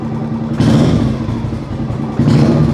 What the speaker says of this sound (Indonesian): Nah, kalau tembakan-tembakan ini udah ciri khas mesin ini.